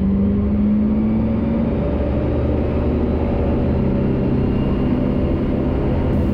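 A taildragger airplane's engine is run up to 3,800 RPM for a magneto test, producing a loud, steady, close droning rumble with a faint tone that shifts briefly early on.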